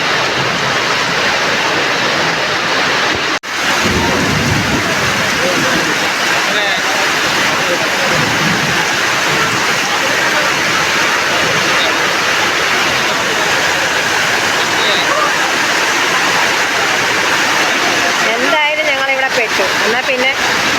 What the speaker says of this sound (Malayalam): മഴ ഇടിയും മിന്നലും ഒരു അരമണിക്കൂർ നേരമായി പെയ്യാൻ തുടങ്ങിയിട്ട് ഇതുവരെ ഒരു തോർച്ചയില്ല